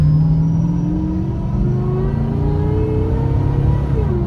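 Dodge Charger RT with a 3.0 Whipple supercharger accelerating at part throttle, a loud close engine drone rising steadily in pitch with supercharger whine layered over the rumble, no voices.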